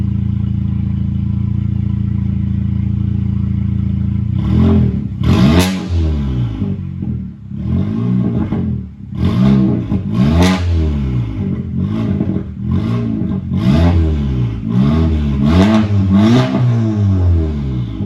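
A modified Audi B9 A4 with a very loud aftermarket exhaust idles with a steady low drone, then is revved hard repeatedly, each blip rising and falling in quick, rhythmic bursts with crackling pops close by.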